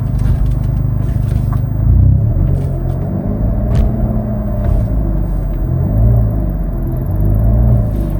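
A Hyundai Veloster N drives along with a loud, steady low rumble of engine and road noise, rising and falling slightly, with occasional faint scrapes and clicks.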